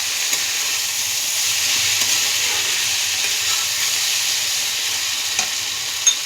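Dry spice masala for a homestyle goat liver, fat and soya chunk dish sizzles hard in a pan, a constant loud close frying hiss with a couple of faint utensil taps near the end.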